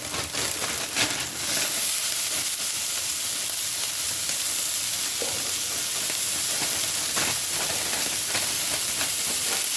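Ground meat hitting a hot pan for snowed-in nacho fries, giving a loud, steady, bright sizzle with small crackles and stirring bursts, heard alone.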